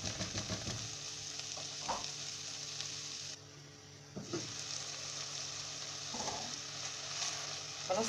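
Chopped leeks and minced meat for a samosa and spring roll filling sizzle steadily in a hot pan, with a few soft stirring scrapes that sound close and clear, and a brief dip in the hiss midway.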